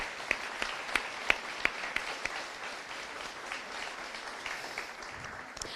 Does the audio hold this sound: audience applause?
yes